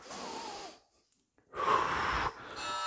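Two sharp, close breaths in during bodyweight exercise, separated by a near-silent pause of about a second, the second inhale louder and rougher.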